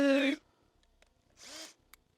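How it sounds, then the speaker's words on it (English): A power drill bores holes to mount a solar motion light bracket, with two short whining bursts separated by a pause, the first near and loud, the second rising in pitch. "we're going to drill some new holes here."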